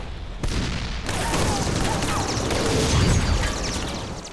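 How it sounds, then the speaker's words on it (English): Tank guns firing at point-blank range in a Pacific battle, U.S. Sherman against Japanese Ha-Go light tank, a dense continuous rumble of gunfire and explosions with booming low end, loud and sustained throughout. "With tanks firing at point-blank range"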